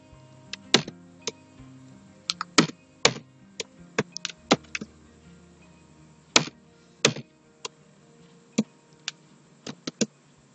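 Someone types an Excel formula on a computer keyboard: scattered, crisp key taps in short bursts and single strokes with pauses between them, close and fairly quiet against a near-silent room.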